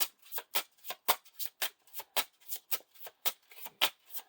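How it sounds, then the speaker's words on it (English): Playing cards in a fantasy card game are riffled and shuffled into a deck, giving a steady run of quick, crisp, close bursts with no one speaking. "he gets shuffled back into the deck"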